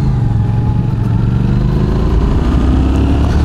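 A Yamaha Tenere 700 motorcycle rides on Greenhill Road in the South Australian hills, its engine droning loud and steady with rising pitch and heavy wind rush throughout.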